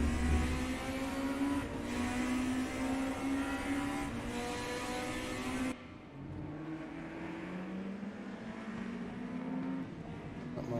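1992 DTM BMW and Mercedes race cars in a racing game accelerate hard out of the La Source hairpin at Spa-Francorchamps: loud, sustained, overlapping engine howls rising in pitch, with an abrupt cut partway through.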